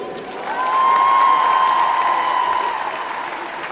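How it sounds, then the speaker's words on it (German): Audience applause at a stage event with dance groups and a flashmob, a dense, sustained wash of clapping from a crowd, swelling and then tapering off slightly. "Also nochmal einen kräftigen Applaus bitte."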